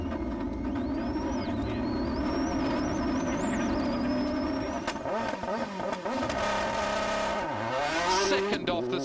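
Mitsubishi World Rally car driven by a driver on the gravel stages of Rally Greece 2001, heard from onboard: a loud engine revs up and down under a high whine, with gravel rattling against the underside and a voice talking in places.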